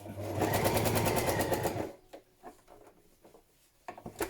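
A sewing machine stitches padded patchwork fabric in a steady, fast whirring run for about a second and a half, then stops, leaving a few soft handling clicks and taps.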